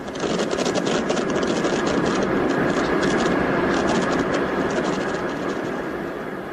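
Jumbo jet airliner engines drone steadily in the cabin during a storm with St. Elmo's fire, a loud, continuous roar with faint rhythmic fluttering and no voices.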